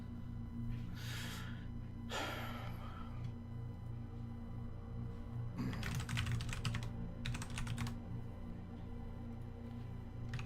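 Computer keyboard typing during a self-hosted server install, several short bursts of key clatter over a steady low hum, fairly faint and close, with breathing noises in between and no talk.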